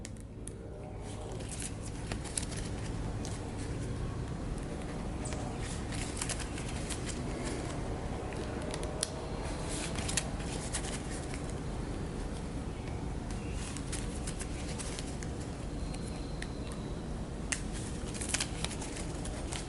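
A deck of cards is shuffled during a tabletop card game, faint quiet riffling and flicking snaps spread across a long stretch under low room noise.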